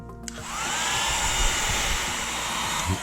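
A heat gun blows hot air on a snow globe base to loosen it, a steady close whooshing blower hum lasting about three seconds after a brief click as it switches on.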